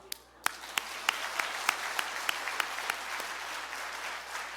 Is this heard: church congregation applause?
yes